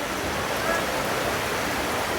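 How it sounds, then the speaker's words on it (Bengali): Dense, continuous downpour with a broad steady roar filling the whole moment, no voices. "কি দারুণ বৃষ্টি শুরু হয়ে গেছে, অনেক বৃষ্টি শুরু হয়ে গেছে"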